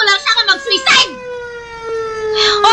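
A police car siren wails steadily and loud, close by, with excited voices talking over its start.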